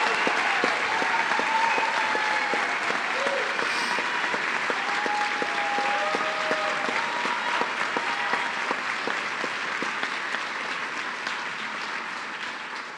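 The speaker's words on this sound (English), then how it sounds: "Please join me in a round of applause for the graduates of" Long round of applause from the audience at a Morrissey College of Arts & Sciences graduate degree ceremony, dense steady clapping in a large hall, slowly fading toward the end.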